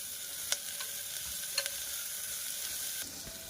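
Potatoes and mixed vegetables frying for a quick vegetable pulao in a pressure cooker, giving a steady, fairly faint hiss with a few sharp clicks of a spoon against the pot.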